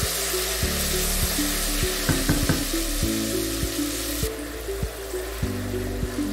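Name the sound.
tomato puree frying in hot oil for shito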